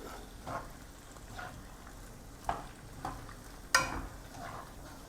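Collard greens and spinach are tossed with tongs in a pan full of liquid, a soft wet simmer broken by a few quiet clicks and scrapes of metal, with no talking.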